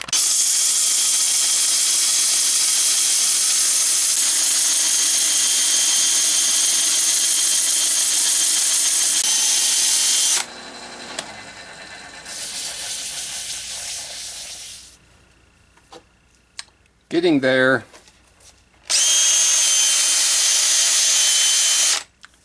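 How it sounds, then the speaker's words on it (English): A steady, loud whirring drone of a spinning wood lathe as a scraper works walnut, with scraping hiss, then pauses, a brief rattling burst, and the machine running again; a short remark spoken. "a little bit more work with the scraper"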